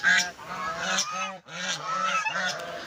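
Geese on a goose farm honk repeatedly in loud, overlapping calls, several birds close by, with brief pauses between bursts of honking.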